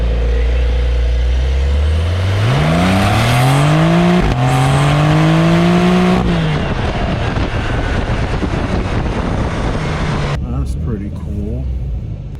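Porsche 911 with a manual gearbox accelerating hard, its engine climbing in pitch through one gear, then a shift and another rising pull before easing off into road noise, with people talking over it.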